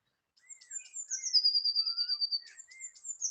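A small bird sings close by: high, thin piping notes with a sustained sweet whistle in the middle, clear and alone without background noise.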